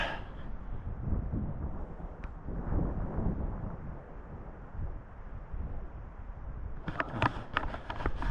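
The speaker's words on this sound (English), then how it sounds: "what's crazy is it's just really windy" Strong wind buffets the microphone in a steady low rumble, with some rustling and clattering toward the end.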